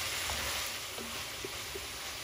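Pepper paste and tomato paste frying in a pan for a Turkish soup, giving a steady, quiet sizzle with faint stirring touches and no voices.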